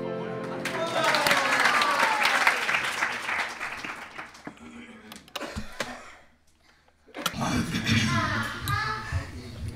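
Applause at a kirtan devotional gathering, loud clapping and crowd noise swelling at first, fading with voices around the middle, a brief near-silence, then renewed clapping and chatter rising again.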